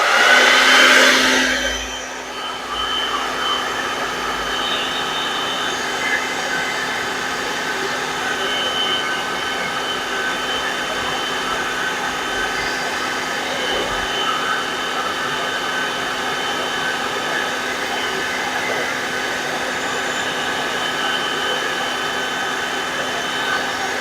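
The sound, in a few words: hair dryer blowing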